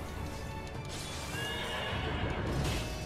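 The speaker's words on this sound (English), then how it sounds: "Horse, stop. Please." A horse in the video game Nioh 2 neighs and whinnies loudly while its hooves clip-clop steadily underneath, a continuous busy game soundscape with no clear talk.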